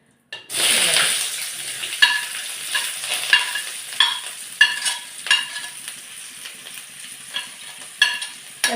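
Chopped onion, green chili, garlic and ginger sautéing in hot oil, opening with a loud burst of sizzle as they hit the pan, then a continuous hiss punctuated by rhythmic stirring scrapes, close up with no talking.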